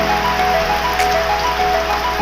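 Heavy, steady rain falls around the Pisat area, a dense continuous hiss that fills the whole clip at a loud, even level with no breaks and no voices.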